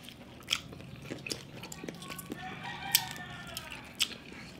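A rooster crows faintly in the quiet surroundings, with a few sharp bird calls standing out over a low, steady background murmur.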